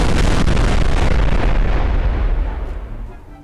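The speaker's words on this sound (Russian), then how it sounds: "Вот еще бомба взорвалась от бульбазавра." Bomb explosions in Garry's Mod during a tsunami disaster scenario in a city: a loud, continuous roar of blasts that rumbles heavily and then fades away over the final second.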